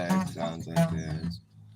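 A human voice imitates the Doppler effect of an object passing by, sliding its pitch and fading away over under two seconds.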